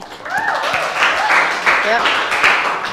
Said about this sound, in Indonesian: Tepuk tangan buat Yurin